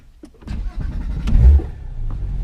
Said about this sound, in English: I like to have the windows down so I can hear the engine resonating off the mountain walls